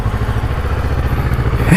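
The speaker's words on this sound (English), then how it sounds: "So let's get this bike cranked up." A 2016 Kawasaki Ninja 650 motorcycle engine running steadily at a low, even idle, close by and fairly loud.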